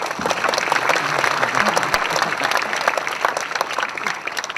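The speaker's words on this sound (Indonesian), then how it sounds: "Tepuk tangan." An audience applauds at a 2008 film screening with the Indonesian president attending, a loud, dense burst of clapping from a large crowd that continues without a break.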